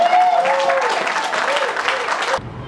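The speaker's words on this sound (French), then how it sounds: "Est-ce qu'on peut encore applaudir plus fort que ça?" Audience applause at a Congolese ceremony honouring Christian Bosembe, head of the CSAC, as the youngest regulatory chief: dense, steady clapping for about two and a half seconds with a voice over it, then cutting off abruptly.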